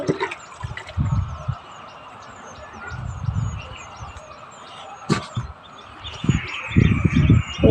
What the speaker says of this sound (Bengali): হাতটা ধুয়ে নেবো।